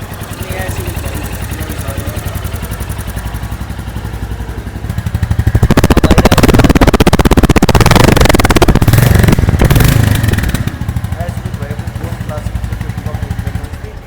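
Gaon Classic 350 motorcycle engine idling with a thumping beat, then revved hard for several seconds before settling back to idle, close up, with someone talking over it.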